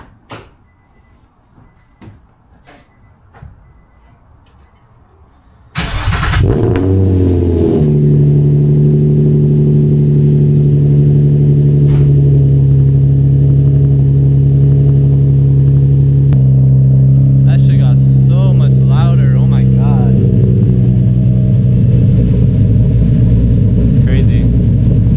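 A quiet stretch with small knocks gives way to a catless drift car fitted with test pipes firing up, settling into a loud, raspy idle rumble, then blipping the throttle in several sharp revs near the end.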